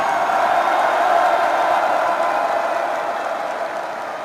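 Large party convention crowd applauding and cheering after a leader's acceptance speech, a dense steady roar of clapping and voices that fades slightly toward the end.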